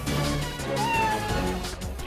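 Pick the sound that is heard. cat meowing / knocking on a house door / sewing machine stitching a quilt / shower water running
cat meowing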